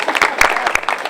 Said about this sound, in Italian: un applauso al parroco